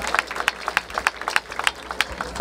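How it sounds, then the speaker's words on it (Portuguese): A crowd at the Batalha da Aldeia freestyle rap battle in Barueri, São Paulo, claps in a steady rhythmic beat, with sharp, evenly spaced claps over a background of crowd noise. "Vamos lá, palmas pra essa batalha"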